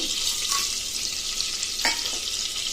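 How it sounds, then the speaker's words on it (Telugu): Whole spices fry in melted butter in a home kitchen pan, a soft continuous sizzle with a few light scrapes and stirring clinks. "ఆ తర్వాత బటర్ అంతా ఇలా కరిగిపోయాక మసాలా దినుసులు వేసుకుందాము."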